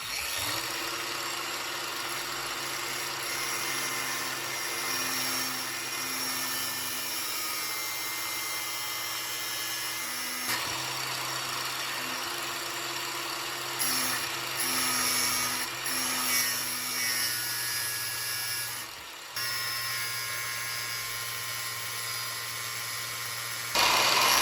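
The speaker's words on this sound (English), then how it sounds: "I've been ever so slowly grinding away" An angle grinder slowly grinds a hexagon shaft for a cargo bike axle, giving a steady, close whine with brief dips and short pauses partway through.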